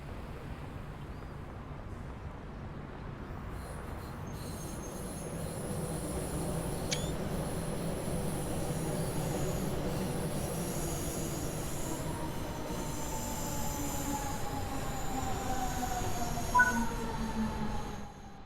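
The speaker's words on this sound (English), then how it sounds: "Your train has arrived." A DB BR110 electric locomotive pulling into the station in the Bremen–Oldenburg line of Train Sim World 3, steady rumbling rolling noise with long squealing wheel tones that build as it arrives, no talk.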